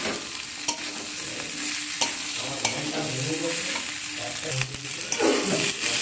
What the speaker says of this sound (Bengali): সব কিছুকে একসাথে ভালো করে কষিয়ে নেব মশলার সাথে।